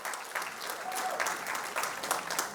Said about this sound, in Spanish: Denle un abrazo, un aplauso al Señor por Spring Hill.